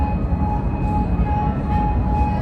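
A metro train rumbles loudly and steadily, close by, with a constant low roar and a faint high whine running throughout.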